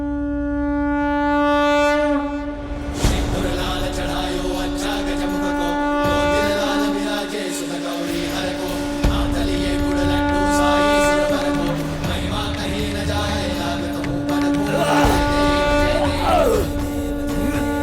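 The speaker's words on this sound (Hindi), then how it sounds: "नारायण के शंख की ध्वनि है" A conch shell, the divine conch of Lord Narayana, sounds a long, steady, piercing horn-like drone over a dramatic orchestral score with swelling effects, loud and sustained throughout.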